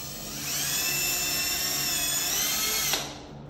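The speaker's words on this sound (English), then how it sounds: "Drill a hole on this one." A small power drill boring a tiny hole into a sponge, one continuous high-pitched whine that holds steady for about three seconds before stopping abruptly, close and loud with no voices.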